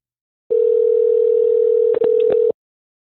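A steady telephone dial tone hums for about two seconds, broken by a brief dropout near its end, then cuts off into silence before a call to a national health insurance office.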